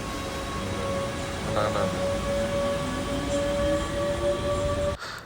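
Steady rumble of a train at a station in Germany, with a sustained tonal whine and faint passing sounds throughout, ending in an abrupt drop.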